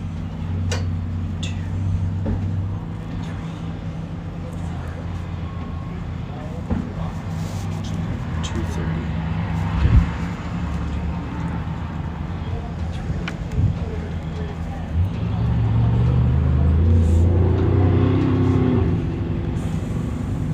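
A stock race truck at the High Desert 100 off-road race in Powell, Wyoming, with a steady engine drone that swells louder near the end as it passes, under ongoing commentary.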